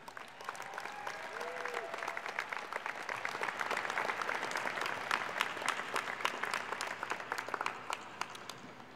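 Graduates and guests at a Heinz College diploma and awards ceremony clap in a sustained round, building and then holding steady, many hands in a large hall, without speech over it.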